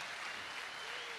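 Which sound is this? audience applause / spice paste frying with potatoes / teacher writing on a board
audience applause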